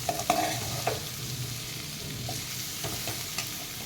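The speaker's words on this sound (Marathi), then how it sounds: "एखाद दोन मिनटं आपण ही भाजी परतून घेऊया" Capsicum vegetable dish stir-fried in a pan, a steady close sizzle with a few sharp clinks and scrapes of the spatula early on, then softer stirring, no talking.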